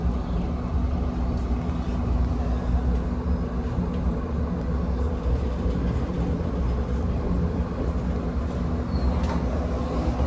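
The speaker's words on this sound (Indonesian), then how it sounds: "Kereta api Gajayana diberangkatkan kembali dari stasiun Blitar" KA Gajayana train pulls away from Blitar station, a loud, steady low rumble of engine and rolling wagons that holds throughout without pause, with no talking.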